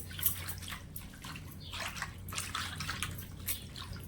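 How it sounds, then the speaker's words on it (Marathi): Coriander leaves being washed by hand in a wide bowl of water: soft, close sloshing and swishing with small splashes and drips, continuous and fairly quiet, no talking. "आता इथं परातीच पाणी घेतलंय आणि ही कोथिंबीर आहे ना थोडी थोडी आपल्याला करून अशी धुवून घ्यायची"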